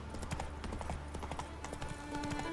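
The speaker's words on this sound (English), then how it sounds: "I love the way he rides his horse." Rapid, rhythmic hoofbeats of a galloping horse in The Witcher 3 video game, fairly faint, with a steady patter and a soft tonal background.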